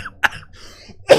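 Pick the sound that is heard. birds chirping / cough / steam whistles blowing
cough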